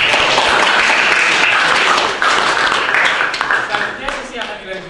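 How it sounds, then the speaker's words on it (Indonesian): An audience at a student research presentation at Kolese Kanisius gives sustained, dense applause filling the room, which tapers off toward the end while voices murmur beneath it. "Mari kita berikan aplaus lagi."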